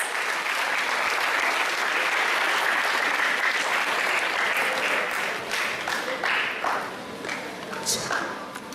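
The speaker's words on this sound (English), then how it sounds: "Let's welcome her with our warmest applause." A school literary festival audience applauds to welcome the head of the English department to the stage, a broad sustained wash of clapping that thins toward the end into scattered claps.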